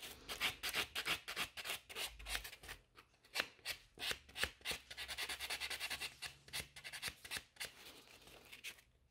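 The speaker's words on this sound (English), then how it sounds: "when buffing the corners, you have to be very gentle, especially on such a small nails" Short, soft rubbing strokes from buffing the corners of small bitten nails during a gel extension manicure, repeating in a quick, uneven rhythm, close and fairly quiet with no talking.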